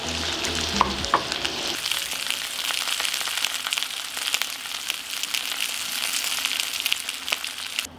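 Meat frying in a pan, with a continuous bright sizzle throughout and a few clattering stir sounds near the start before the frying settles into a steady hiss.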